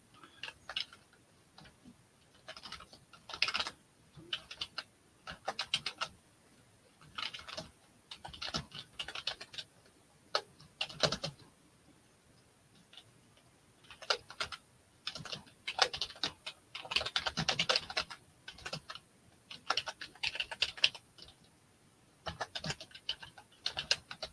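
Computer keyboard typing during a live online auction, quick irregular clusters of keystrokes with short pauses between them, close and fairly soft, with no talk.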